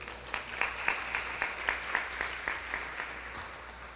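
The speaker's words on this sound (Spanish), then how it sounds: "Démosle tu fuerte aplauso." Church congregation applauding during a Spanish-language sermon, a steady wash of clapping with rhythmic group beats, moderately loud and close, with no speech over it.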